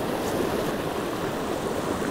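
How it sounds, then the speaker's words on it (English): Steady stream of oxygenated water pours into a calm, rocky backcountry pool in Maine, a continuous, even rushing wash, loud and close, with no talking. "It's got a really steady stream of oxygenated water running into it"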